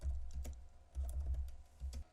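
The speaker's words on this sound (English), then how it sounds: "as you can see, I'm pressing keys." Computer keyboard keys clatter in short clustered bursts of taps, close and moderately quiet, with brief pauses between groups of presses.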